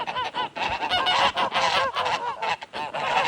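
Goslings call in a dense chorus of high, rapid peeping honks, close and continuous with brief dips, and no talk over them.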